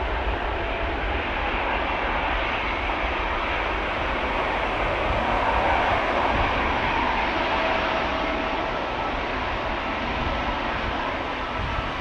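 A jet departing Amsterdam Schiphol Airport in strong crosswind, a broad steady engine roar holding at a constant loud level throughout, with no voices over it.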